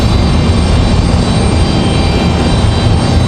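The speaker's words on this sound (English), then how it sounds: "That A320 is headed to Philadelphia" An American Airlines Airbus A320 jet rumbles loudly and steadily at Raleigh-Durham International Airport, bound for Philadelphia. The broadband engine roar fills the whole stretch at constant strength, with no voices over it.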